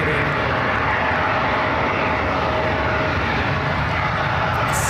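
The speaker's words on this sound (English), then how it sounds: "Cessna citation latitude coming in from Santa Barbara, NetJets 680." A Cessna Citation Latitude business jet comes in to land at San Francisco International Airport, its engines making a loud, continuous roar that fills the whole stretch.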